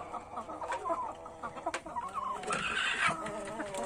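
Native village chickens clucking nearby, a busy overlapping chorus of short clucks and calls from a free-ranging flock.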